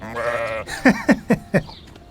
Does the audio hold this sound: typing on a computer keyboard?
no